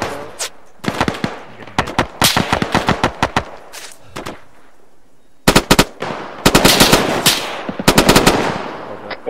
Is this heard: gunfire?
yes